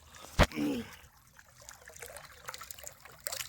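Water scooped by hand from a canal and sipped outdoors: a sharp splash, then soft trickling and small drips, fairly quiet with faint background noise.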